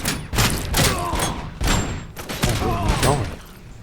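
A grenade blast in Robocop Rogue City, followed by a burst of heavy gunfire and thuds. Several loud, close booms and impacts come in quick succession, with a voice talking over them.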